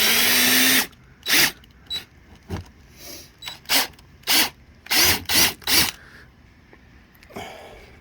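A power drill bores a hole through the bumper of a Cadillac CTS-V, heard as a series of loud, close, high-pitched whining bursts of one to two seconds each, separated by short pauses.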